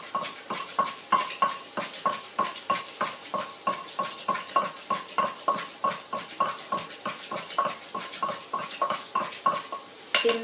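A pestle pounds green apple salad with fried chili, roasted peanuts and fried shallots in a mortar. The strikes are steady, rhythmic and close, roughly two or three per second, and continue without pause throughout.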